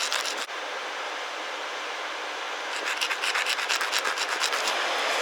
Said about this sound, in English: It's not super smooth, so we're going to use this ultra high precision file.